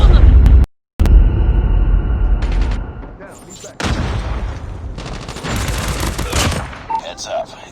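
Rapid bursts of gunfire and explosions in a multiplayer first-person shooter match, loud and dense with a brief silent gap, followed by more shots and booms, with someone talking over the action.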